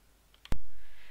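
A single sharp mouse click sends an email in Gmail on a computer, one crisp close tap in a quiet room with faint background hiss afterwards.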